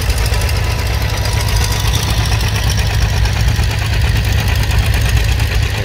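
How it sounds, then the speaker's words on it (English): Farmall 400 gas tractor pulling an Oliver 4340 plow through previously turned ground at a plow day in Claremont, Minnesota, its engine a loud, close, continuous throbbing drone. "Farmall 400 gas pulling an Oliver 4340."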